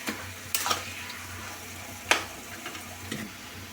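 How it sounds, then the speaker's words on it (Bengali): Taro greens and pumpkin fry in a pan under a soft sizzle, broken by a few sharp scraping stir strokes at irregular intervals, close and alone. "এবার কিছুক্ষণ নাড়াতে হবে"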